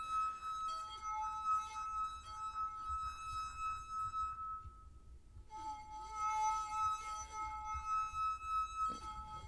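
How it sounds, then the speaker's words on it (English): A euphone, an instrument played with wet hands stroking glass rods, rings with sustained, pure glassy tones that shimmer and overlap, briefly fading out midway before a new layered chord swells back in. "I started using the sounds of the euphone, an instrument you play on with wet hands on glass rods"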